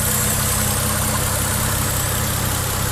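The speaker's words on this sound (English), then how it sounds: "Very quiet, very smooth engine." A 2002 Mitsubishi Legnum VR-4 twin-turbo with manual gearbox idles smoothly and quietly, a steady low engine hum with broad hiss running unbroken throughout, close by with no voices.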